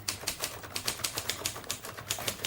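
Rapid, fairly loud clacking of a typewriter as typed-up dictation is worked through, the keystrokes coming in an irregular but steady stream over a low background hum.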